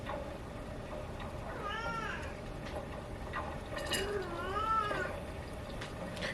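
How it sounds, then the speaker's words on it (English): A household cat meows twice in the background with rising and falling cries, fairly faint beneath steady kitchen noise from chicken cooking in a mini karahi. "I don't know if you hear one of them meowing right now in the background."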